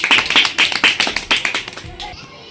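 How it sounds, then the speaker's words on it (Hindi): A group of children claps for a team during a classroom card game about sorting waste, rapid uneven bursts of hand claps lasting about two seconds, close and fairly loud, then fading into room noise. "ताली बजा दो इनके लिए।"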